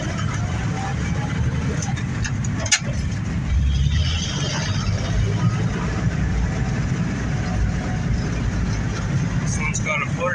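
A 1955 Bombardier wide gauge snow vehicle with a floor shifter and no power steering, running steadily on its first test drive around a field, a continuous low engine rumble close by with people talking over it.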